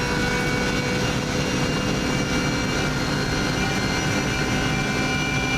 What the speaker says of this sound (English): Helicopter always comes into sight here, you can see that above.